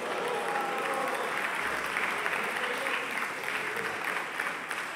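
Applause rings out in the French parliament during a session of government questions, a steady wash of many hands clapping at a distance in a large chamber.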